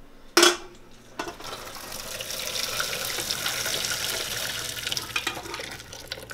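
Cooked pasta and its water pour into a strainer in a kitchen sink: a sharp clank, then a steady rushing splash of water lasting several seconds, close and moderately loud.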